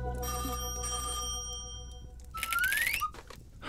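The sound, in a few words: telephone ringing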